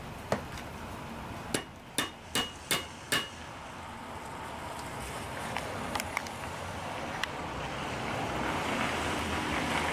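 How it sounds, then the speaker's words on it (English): Five sharp metallic hammer strikes drive a tapered pin into a vintage Snapper riding mower with an 8 hp Briggs and Stratton engine, evenly spaced and close, followed by a few fainter taps over steady outdoor wind noise. "Hammer this dude the rest of the way in."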